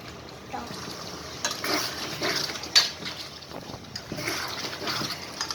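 A spoon scrapes and stirs through beef stew in a pot, giving soft irregular scraping and sizzling strokes at close range, with quiet talk in the background.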